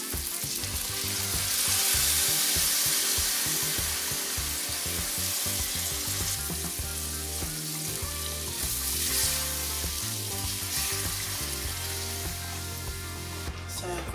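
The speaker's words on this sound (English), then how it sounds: "So our gravy has been boiling for a few minutes." Beef-stock gravy boils in a pot on the stove, a continuous bubbling and sizzling simmer with some stirring and clinking, close and steady throughout without talking.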